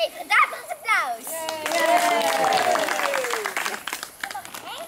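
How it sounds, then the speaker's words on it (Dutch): Audience applause and cheering for a girl named Hanna on a Dutch children's variety show, a dense burst of clapping under children's voices and excited shouts that swells and holds for several seconds. "Geef haar daarvoor een applaus"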